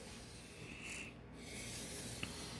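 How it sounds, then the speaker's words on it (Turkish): A fish fillet knife is sharpened with light pressure in back-and-forth strokes, making a faint, close, continuous rasping rub with one small click near the end. "bıçağımı bileliyorum"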